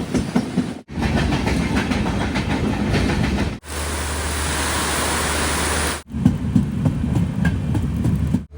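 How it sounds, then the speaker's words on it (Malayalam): The Konkan Kanya Express, a sleeper-class train on the Konkan Railway from Mumbai toward Goa in the monsoon, rumbles steadily with clattering wheels in a loud, continuous roar broken by a few abrupt cuts. "കൊങ്കൺ റെയിൽവേയുടെ ജനപ്രിയ ട്രെയിനുകളിലൊന്നായ കൊങ്കൺ കന്യ എക്സ്പ്രസിൽ ഞങ്ങൾ ഇന്ന് മുംബൈയിൽ നിന്നും ഗോവയിലേക്ക് മഴക്കാലത്തൊരു യാത്ര പോവുകയാണ്"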